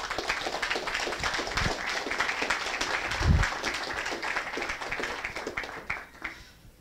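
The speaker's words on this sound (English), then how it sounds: "Let's give a round of applause for the Most High." Applause from a class audience honoring the Most High, a steady patter of claps spread across the room at moderate volume, sustained for several seconds and then tapering off.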